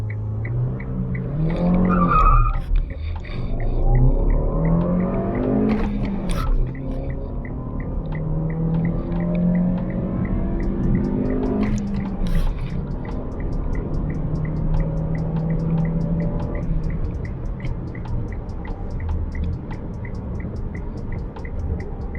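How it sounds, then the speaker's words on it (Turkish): A 2012 Kia Sportage with a manual gearbox accelerates hard in a 0-100 km/h run, engine revving up through rising pitches with gear changes between, loud and close from inside the cabin, with a brief tire chirp at launch. "Şimdi şurada bir 0-100 testi yapalım."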